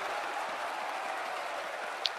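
Steady roar of a large stadium crowd cheering in a baseball video game, continuous and far-off, with no distinct voices standing out.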